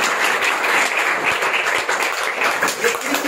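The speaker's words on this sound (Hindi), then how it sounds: "आगे आइए, जोरदार तालियां होनी चाहिए।" At a school competition in Nalanda district, an audience applauds an essay competition winner with loud, energetic clapping from many hands, sustained and close throughout.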